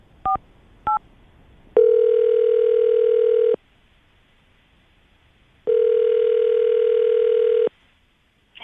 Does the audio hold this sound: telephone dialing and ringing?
yes